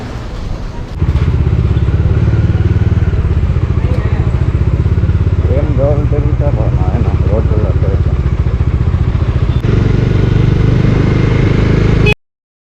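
A motorcycle is ridden out with a GoPro mounted on the rider's helmet. The engine rumbles loud and close with steady rhythmic chugging, and a voice speaks briefly over it.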